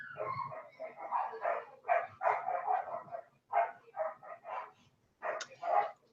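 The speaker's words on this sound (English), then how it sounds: "I could see the dogs tearing behind you, so that's probably what it was." Several dogs romp and bark indoors at a distance, giving a run of short, muffled woofs and yips in uneven bursts with brief pauses, fairly faint and with no talking over them.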